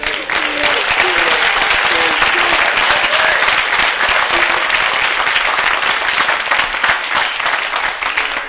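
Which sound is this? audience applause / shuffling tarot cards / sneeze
audience applause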